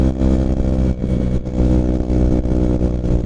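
A Kawasaki KLX 140 dirt bike engine runs loud and close, revving repeatedly in short bursts with brief dips between, its harmonic engine drone dominating and no talk audible.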